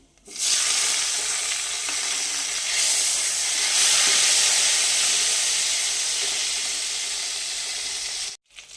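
Chopped tomato hits a hot frying pan with dried chillies and black cumin for a Bengali catla fish dish, bursting into a loud, steady sizzle that runs nearly nine seconds before cutting off abruptly.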